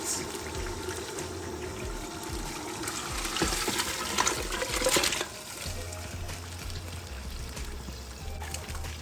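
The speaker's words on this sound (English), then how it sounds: "I'm going to pour my stock and my meat." Stock and meat pour and splash into a pot for several seconds, louder in the middle, over a faint background hum.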